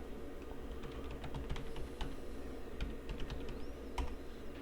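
Keys clatter on a computer keyboard in quick, uneven bursts of clicks, typed close by in a quiet room with no voices.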